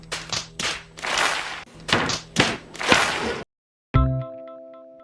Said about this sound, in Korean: 소음과 함께 쾅쾅 닫히는 싱크대문 듣기 싫지 않으셨나요?